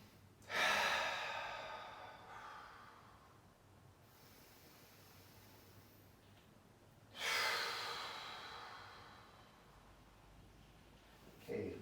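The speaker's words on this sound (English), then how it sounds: "Take big breaths." Two long, deep breaths during a yoga session, each a close, breathy rush of air that swells and then fades, separated by several seconds of quiet room tone.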